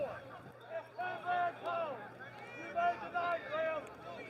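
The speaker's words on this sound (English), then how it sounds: "You hear the crowd." Crowd noise at a high school varsity football game between Clayton Comets and Garner Trojans, a murmuring stadium babble under a commentator's voice talking throughout.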